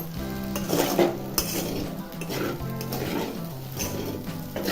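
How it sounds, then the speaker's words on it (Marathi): A pan of sabudana khichdi being stirred over low gas, the spoon scraping and clinking against the metal in steady strokes while the tapioca pearls sizzle softly, with background music playing throughout. "दहा मिनिटासाठी असा हलवायचा आहे"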